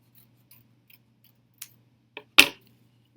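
Scissors snip through folded paper with a few faint, sparse cuts followed by one louder, crisp snip, close up in a quiet room with no talking.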